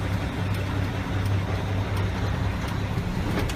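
Tractor-trailer truck engine pulling gently in first gear during a tractor brake test, a steady low rumbling drone with even idle-like throb, no talk.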